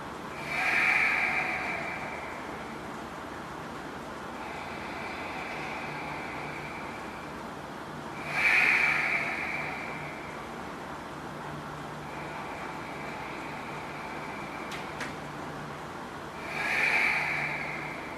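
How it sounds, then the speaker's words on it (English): Three rounds of slow Ujjayi breathing through the nose with lips sealed, each a long, soft, hissing inhale and exhale with a throaty rasp, evenly spaced and quiet against a faint background hum. "We'll just breathe 3 rounds of breath, Ujjayi, with your lips sealed."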